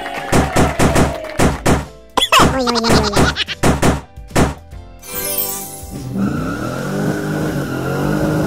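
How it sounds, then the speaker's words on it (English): Toy racing car sound from a toddler car puzzle: a rapid series of loud rhythmic engine-like pulses, then a rising whoosh and a steady high revving drone, close and electronic-sounding. "Racing car."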